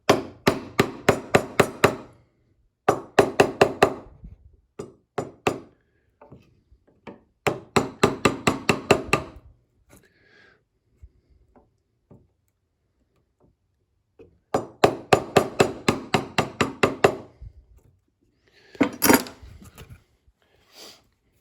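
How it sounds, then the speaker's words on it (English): A small hammer strikes a chisel cutting oak in quick rhythmic bursts of sharp metallic taps, close up, with short pauses between the runs. "Got more control with a small hammer."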